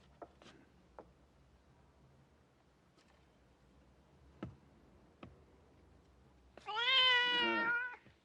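A cat gives one drawn-out, clear meow near the end, after a quiet stretch broken only by a few faint ticks and taps.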